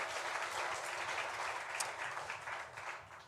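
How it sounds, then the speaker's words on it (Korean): A church congregation at a Sunday worship service claps together in praise, the dense, even applause sounding soft and somewhat distant, continuing without talk. "우리 하나님께 영광의 박수 올려드리겠습니다."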